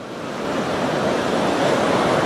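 Surf breaking on a sandy beach at the mouth of the Río Loa in Chile, a loud, steady rushing wash of waves swelling slightly and filling the whole moment, heard close with no voices.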